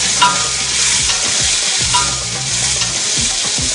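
Onions, garlic and prawns with curry leaves fry in hot oil for a Sri Lankan curry, a loud, steady sizzle broken by a few stirring scrapes.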